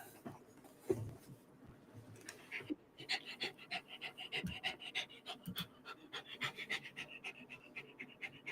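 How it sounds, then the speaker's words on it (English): A dog pants heavily and rapidly up close, in quick rhythmic breaths that continue for several seconds, with soft rustling and a brief voice early on. "I heard heavy breathing, and then I see a dog."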